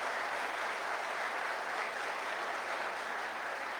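Audience applause at an open house and job fair, a steady wash of clapping lasting the whole stretch at moderate, even loudness with no talk over it.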